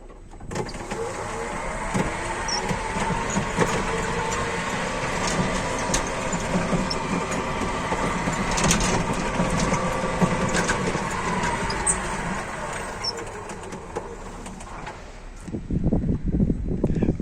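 Steady electric whine and mechanical hum of a 2016 Toyota 8FBEKT16 electric forklift driving forward, continuous and fairly loud for most of the stretch, ending with a few louder knocks and clunks.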